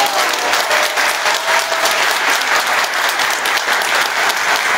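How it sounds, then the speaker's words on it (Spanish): Sustained, loud applause from a crowd at a PRI municipal committee swearing-in ceremony in Huauchinango, dense steady clapping filling the space with no break. "Escuchen fuerte este aplauso"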